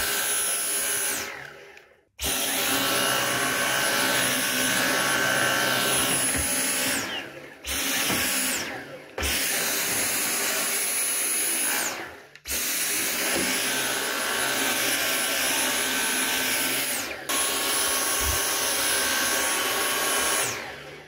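A Dyson V10 cordless vacuum cleaner whirs loudly and steadily up close with a high whine, cutting out briefly several times before spinning back up to full power.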